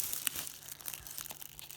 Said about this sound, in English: cut the dead leaves away and kind of make him look a little bit nicer